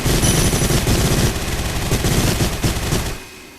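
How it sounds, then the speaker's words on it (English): A minigun firing in the VR shooter Gun Raiders: a loud, dense, continuous rattling burst of rapid gunfire that cuts off and fades near the end, with no voices. "Minigun."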